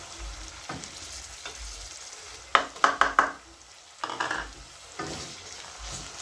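Garlic, six cloves with a small piece of ginger, goes into a pan of frying beef for pilau, setting off bursts of sizzling and stirring that swell and fade over a steady low crackle.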